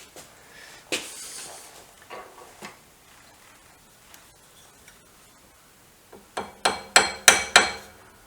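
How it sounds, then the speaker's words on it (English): A small lead hammer taps on metal parts of a BSA B44 trials motorcycle during truing, a few scattered light knocks at first, then a quick run of five or six sharper, ringing taps close by. "I got my little lead hammer."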